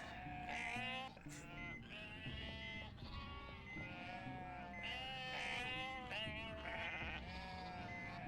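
Sheep bleating in the video game Unmetal, several loud wavering bleats in quick succession over game sounds, with a voice speaking briefly underneath.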